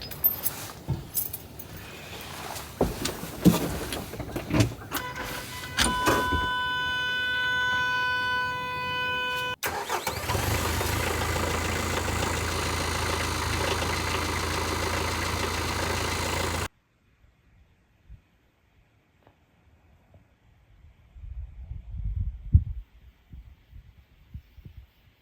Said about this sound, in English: Let's see how the TYM does on this chilly morning.